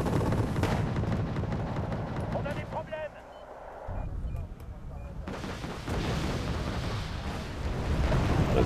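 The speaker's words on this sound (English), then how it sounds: "I think what I'll do is an airstrike on those" Airstrike explosions in the Wargame Airland Battle strategy game come as a continuous loud rumbling roar of blasts with a brief lull in the middle before the booming resumes.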